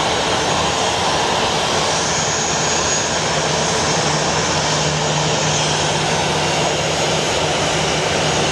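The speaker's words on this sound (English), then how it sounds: "we have a small plane alert" A small propeller plane flying at Phoenix Sky Harbor airport, a loud steady drone with a constant engine hum that holds throughout without a break.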